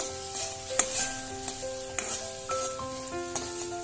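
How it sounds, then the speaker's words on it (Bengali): Potatoes and spices being sautéed in a pan, a soft continuous sizzle broken by a few spatula scrapes and clinks, with a faint tonal hum in the background and no talking. "তো আবারও ভালোভাবে কষিয়ে নিচ্ছি তো বন্ধুরা আলুগুলো এবার"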